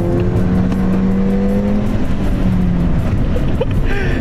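A Ford Fiesta ST drives and accelerates, its engine holding a steady loud drone from inside the car with a brief gear change partway through.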